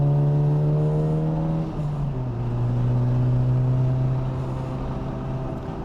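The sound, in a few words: Honda Civic Type R FL5 driving a warm-up lap on track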